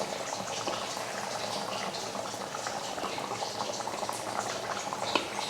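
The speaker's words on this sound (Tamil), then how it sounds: "ஒவ்வொரு மீனாக எடுத்து சேர்த்துக்கலாம்." A pot of Tamil fish curry (meen kulambu) with seer fish bubbles in a steady, dense simmer, a continuous close gurgling hiss with a few soft plops and no talk.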